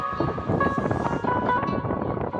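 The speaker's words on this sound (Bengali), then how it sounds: "এই মার্চ মাসে সমুদ্রে এত হাওয়া না, প্রচণ্ড ঠান্ডাও লাগছিল।" Strong sea wind blows on Puri beach in March, a steady broadband roar buffeting the microphone, loud and continuous.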